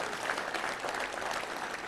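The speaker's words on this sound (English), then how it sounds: "Wow, it's worth a round of applause right there." A crowd at a Little Rock Touchdown Club luncheon applauds, a steady, dense wash of many hands clapping at moderate volume with no pauses.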